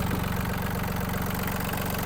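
A Yanmar F-210 Japanese mini tractor engine idling up close, a steady, rapid rhythmic chugging throb that stays even and loud throughout the short stretch.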